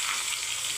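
Onions sizzle and crackle steadily in hot oil while sambar rice is being prepared, a dense, continuous frying hiss that stays close and even throughout, with no talking.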